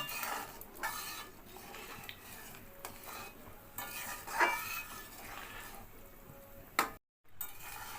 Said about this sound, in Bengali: খুব সুন্দর ফুটছে তরকারিটা